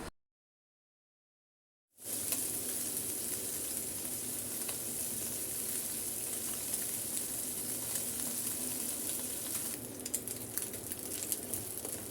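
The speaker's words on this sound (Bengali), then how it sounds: "আমি একবারে লাল করে কড়া করে মাছগুলো ভাজবো" Chewa fish fry hard in hot oil in a pan, a loud continuous sizzle with spattering crackles that starts abruptly after a couple of seconds of silence and holds steady to the end.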